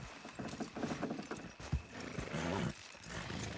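In Red Dead Redemption 2, hooves clip-clop steadily while a horse lets out a whinny partway through, over a dense, busy background.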